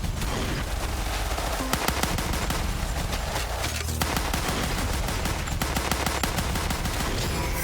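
Rapid pistol gunfire fills a video game battle against robots, shots cracking in quick irregular bursts, loud and close, mixed with game effects and no talking.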